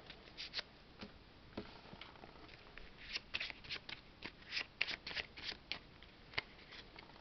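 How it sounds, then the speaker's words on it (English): Repeated close-up shuffling of a board game card deck, crisp riffles and snaps in irregular bursts, quiet and with no talking. "Shuffle the item deck."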